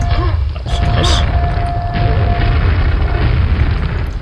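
Grenades in Quake go off as loud, continuous rumbling booms, layered with deep roaring blasts and occasional sharp pops, with someone talking over them.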